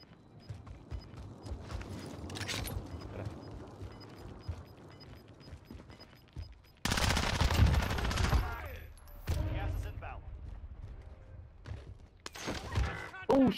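Warzone battle royale gunfire crackles in bursts, with a loud broadband blast near the middle that fits a sniper shot, over game ambience and a few short voices.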